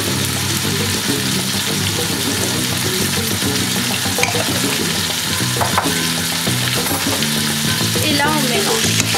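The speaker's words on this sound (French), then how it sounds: "On les mélange histoire de faire un petit peu sauter tout ça" A meat tajine sauce with red chili purée being stirred in a hot pan, loud continuous frying sizzle with steady scraping and stirring throughout, no voices.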